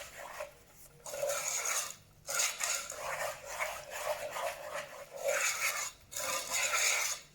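Eggs being stirred one by one into a chocolate tart mixture for a Mary Berry recipe, giving close, scraping, rasping strokes in roughly one-second bursts with short pauses between, and no voices.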